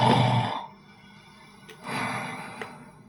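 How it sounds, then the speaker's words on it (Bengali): Snoring played in a sound-guessing quiz: two drawn-out rasping breaths a second or so apart, close and moderately loud, the first stronger, with a quiet lull between. "এটা নাক ডাকার আওয়াজ"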